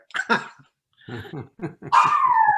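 A dog barks nearby in several sharp, loud bursts, pausing briefly between groups, then ends in a drawn-out, whining howl.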